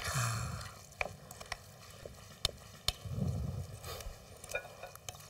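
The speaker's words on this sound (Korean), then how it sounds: "조금 전에 우리 준비해놨던 부추 같이 넣어주시고 섞어주세요" Mandu filling being stirred together with chopped garlic chives, giving soft wet squishing and mixing sounds with a few light clicks of a utensil against the bowl.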